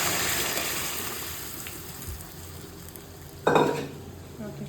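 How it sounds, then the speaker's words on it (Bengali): Boiled dal going into a hot pan, a broad hissing sizzle that fades gradually, then a short burst of splashing and clatter near the end, close by, without speech. "এখন আমি ডালটা ঢেলে দেবো"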